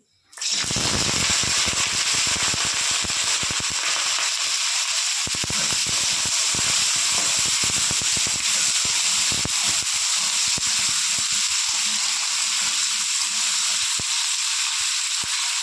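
Radish, brinjal, beans, potato and cauliflower hit hot oil in a pan with a sudden loud burst of sizzling, then a steady, dense crackle and hiss that carries on close and unbroken with no talking.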